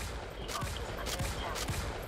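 Gunfire in Starship Troopers: Extermination, a few quick bursts of shots over a busy, noisy battle backdrop.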